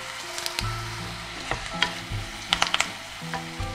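Onions, garlic and curry leaves sautéing in a pan for a Tamil dry fish kulambu, with a steady close sizzle and scattered sharp stirring scrapes and clinks throughout.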